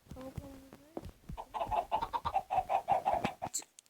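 Repeated soft clucking from chickens in Minecraft, a steady run of short rhythmic calls after a few brief squawks, close and moderately loud.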